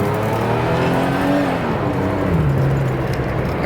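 A one-owner 1992 Mercedes-Benz 300E W124 accelerates while driving, its engine drone rising steadily and loud throughout with road noise underneath.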